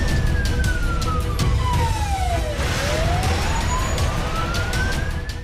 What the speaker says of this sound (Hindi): चीख पुकार के बीच एम्बुलेंस के सायरन की कई आवाज